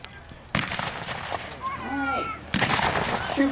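Civil War reenactment firearms go off outdoors at a muster in Jackson, Michigan: two loud sharp gunshots a couple of seconds apart, each trailing into an echo, with people talking between them.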